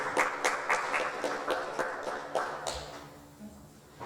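Conference audience applauding, a scattered run of claps at moderate distance that thins out and fades into quiet by the end, no speech over it.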